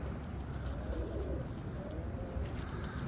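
Soft, low pigeon coos repeat against a steady background hiss, faint and somewhat distant.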